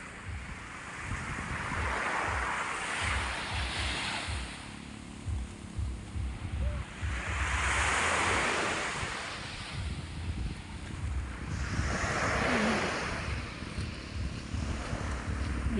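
Gusty wind at sea sweeps past a small boat in broad, rising and falling surges, mixed with the wash of waves and rumbling buffets on the microphone, with no voices.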